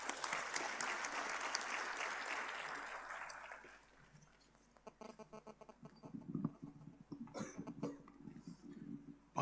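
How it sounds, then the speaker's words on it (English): An audience at a symposium applauds for several seconds, the clapping fading out, followed by a few scattered coughs, throat clearing and shuffling in a quiet room. "Please welcome him with a huge round of applause."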